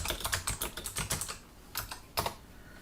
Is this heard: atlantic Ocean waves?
no